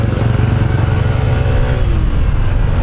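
A Honda ADV 160 scooter accelerates hard to overtake on a road, its engine droning loud and close with a rising rev and steady mid-pitched buzz throughout.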